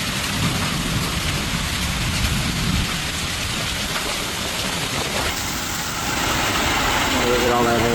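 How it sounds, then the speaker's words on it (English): Tennis-ball-size hail falls in an Oklahoma hailstorm as a dense, continuous rattling roar, with a low engine hum and voices underneath. "Look at all that hail."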